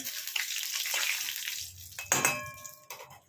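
Torn bay leaves hit hot oil over a high flame, giving a sudden sizzle and clatter of pan and utensil midway, with a bright hiss and ringing tones trailing off.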